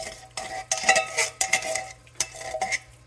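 Thick coconut cream being stirred into a pot of curry beans, with soft scraping and clinks of a spoon against cookware coming in several short bursts, close by and moderately loud, with no talking.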